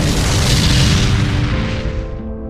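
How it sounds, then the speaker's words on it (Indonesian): An atomic bomb explosion sound effect, one deep roaring boom that fills the clip and then rumbles and fades over about two seconds. "bom atom yang menghancurkan kota Hiroshima dan Nagasaki"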